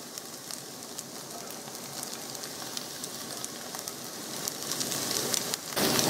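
Hash browns and sausage sizzling in a breakfast skillet, a dense, even crackle that holds steady and grows slightly louder near the end, with no talking.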